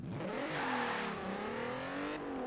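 A Forza Horizon 4 car engine revs and whines, pitch climbing and dipping as the front wheels spin, with a hissy, bright tone and no talking.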